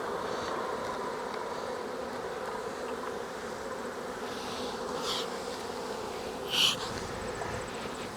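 Honey bees drone steadily in a late-season brood chamber opened for inspection, a dense, even buzz that fills the whole stretch with no talk over it.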